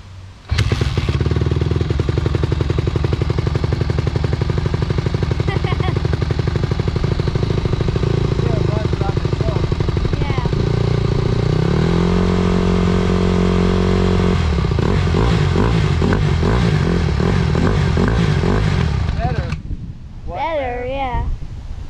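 A Honda CRF150 dirt bike engine catches and runs loudly and steadily for about twenty seconds, with rough mechanical clatter and a few blips of revving, then cuts out near the end as people talk over it.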